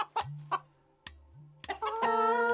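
Large hen in a coop clucking and calling in a few sharp bursts, then a rising, drawn-out squawk, close and loud with no talking over it.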